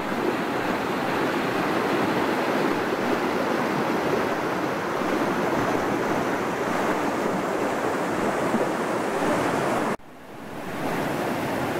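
A powerful mountain stream rushes past, a dense, loud and continuous roar of water close by that briefly drops and returns near the end, with no voices.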